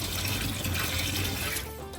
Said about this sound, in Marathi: आता ह्याच्यामध्ये पाणी भरून ठेवायचं